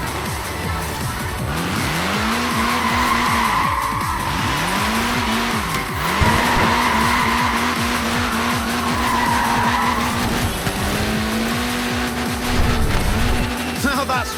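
A Mini, short-wheelbase and front-wheel drive, slides and skids in Forza Horizon 4, its engine note rising and falling in repeated swooping revs while tires squeal in long sustained screeches, loud and close, with a voice talking over it.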